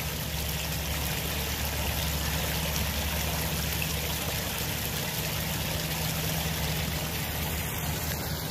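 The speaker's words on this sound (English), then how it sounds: "I heard some running water." The Skunk River stream near Story City, Iowa, flows with a steady, continuous rush of running water, close and even from start to finish with no voices.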